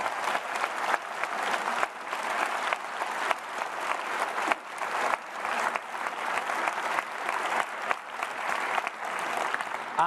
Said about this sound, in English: Let's give a massive round of applause to all of you.